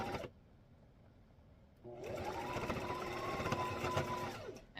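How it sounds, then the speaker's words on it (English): A domestic sewing machine stitches fabric for a small card holder pouch, starting after a quiet pause and then running steadily at close range for several seconds before stopping. "I leave my needle down in the thread, lift my presser foot, turn my fabric, and then just start sewing again"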